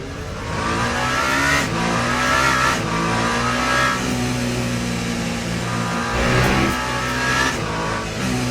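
Number 8 race car in Le Mans Ultimate during a 24 Hours of Le Mans race, its engine droning loud and close with rising and falling revs and shifts that repeat throughout.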